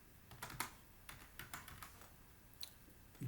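Keys clatter on a computer keyboard while entering a spreadsheet formula, in quick uneven bursts of clicks, faint and close, with no voices.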